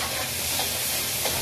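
Garlic, onion and tomato sauté together in a pan, giving a steady, dense sizzle of frying close by with faint stirring and no speech.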